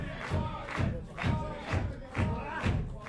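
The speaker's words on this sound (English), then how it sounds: "Crowd getting behind the tribe here." Wrestling crowd chanting and cheering at a live pro wrestling show, rhythmic swells of voices rising and falling about every half second with stomping thuds, loud and sustained throughout.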